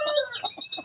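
Backyard hobby chickens cluck close by in a quick series of short, throaty calls, clear and alone with no talking.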